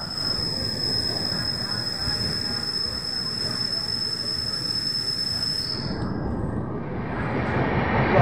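A moving Gitanjali Express passenger train on the Howrah to Mumbai route, heard from inside as a steady, loud rumbling roar of wheels and carriage noise that continues throughout, with no break.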